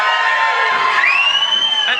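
A wrestling arena crowd at an EWF show cheers loudly and steadily, with high whoops and shouts rising through the roar for two seconds.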